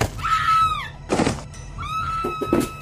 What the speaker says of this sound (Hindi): एक चिल्लाहट और धक्कम धक्का का शब्द हुआ।